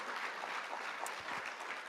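Steady applause from a crowd at a city oath of office ceremony in Salt Lake City, a dense wash of clapping held at an even level throughout.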